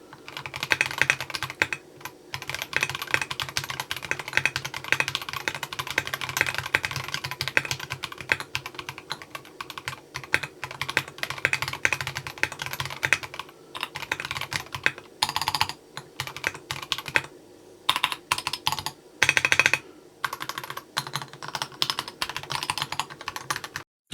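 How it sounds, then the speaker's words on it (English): Gateron White switches clacking on a Melgeek Mojo68 mechanical keyboard in a steady, close typing run, with a few short pauses between bursts of keystrokes and no talking. "Here's a quick keyboard sound test for you."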